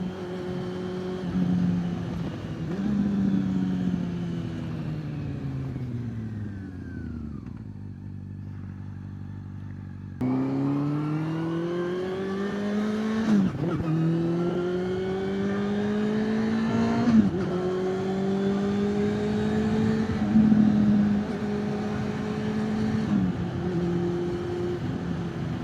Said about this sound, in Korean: 6300rpm부터 이제 VTEC 밸브가 열려서 배기음이 더 커지고 좋아지거든요